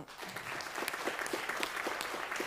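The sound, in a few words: audience applause for the contestants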